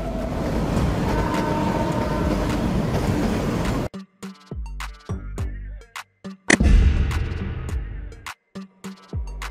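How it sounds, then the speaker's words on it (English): A heavy freight train rumbles past up close, a dense steady roar that suddenly drops into clanking, rattling wagon noise and sharp metallic knocks. "A train designed to transport goods and cargo, usually over long distances"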